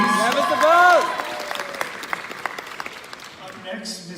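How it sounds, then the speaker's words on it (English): Audience applause for awardees at a 2019 school arts showcase, scattered clapping that follows a brief voice at the start, moderately close, then thins out toward the end. "another round of applause for Ms. DeBose and her awardees."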